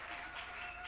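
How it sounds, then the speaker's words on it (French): Applause breaks out for the Lord during a French-speaking church service, a steady dense wash of many hands clapping close by, continuous and fairly even through the short burst. "Applaudissez très fort pour le Seigneur"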